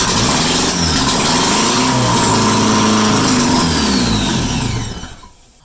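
A Porsche 944 engine swapped to a 1.8 turbo, run with no exhaust fitted, starts for the first time loud and rough with uneven revving, then cuts off and the sound drops away near the end.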